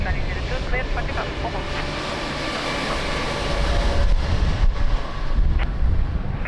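An airliner taking off at Lisbon airport, a loud, continuous rumbling roar with wind buffeting, under an air traffic control radio voice.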